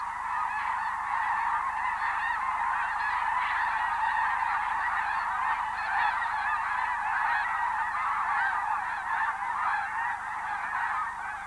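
A flock of geese honks continuously over a lake, many overlapping calls forming a dense, steady chorus at moderate distance.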